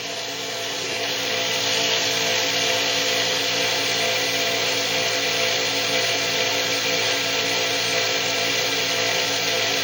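A ZFM 6-pole electric motor runs under load with a steady, dense whirring drone that stays close and constant throughout, with no voices over it.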